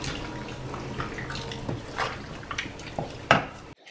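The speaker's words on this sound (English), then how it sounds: "Splash of the pasta water." A splash of pasta water pours into a jar in a kitchen, with soft trickling, drips and a few clinks of glass and utensils, ending in a sharper knock before stopping.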